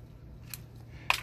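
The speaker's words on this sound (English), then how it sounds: "with some scissors" Scissors snipping sun-damaged avocado tree leaves, two quick close clicks about half a second apart against quiet room tone.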